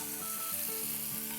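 Kashmiri red chili added to melted butter in a pan, producing a steady, close sizzle with faint bubbling throughout a brief moment.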